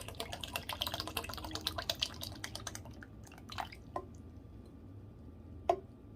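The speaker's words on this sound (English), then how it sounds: "Now you're going to put the carnation milk in." Carnation evaporated milk poured into a crockpot of oatmeal, giving a quick run of wet drips and splashy glugs up close, then thinning to a few isolated drops and soft squishes before one sharp final drip.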